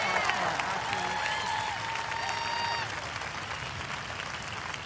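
Arena crowd applauding athletes, judges and staff at the 2022 NoBull CrossFit Games, a broad, steady roar of clapping heard from a distance, with a faint amplified voice over the first few seconds.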